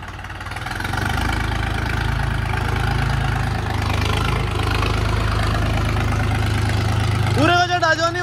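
A new tractor's diesel engine idles steadily close by, a continuous low throbbing rumble that runs almost the whole time, with a brief rise in pitch near the end and voices in the background.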